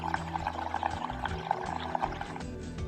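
Air blown through a straw into bubble solution makes a busy bubbling, gurgling churn, close and steady with no talk.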